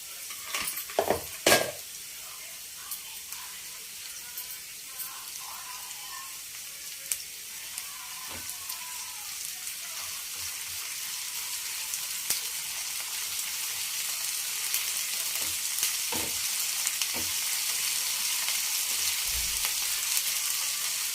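Onions, cumin, green chillies and ginger-garlic paste fry in oil for a mutton curry, a steady hissing sizzle with a few sharp clinks and stirring scrapes early on, building slightly louder toward the end, with no talking.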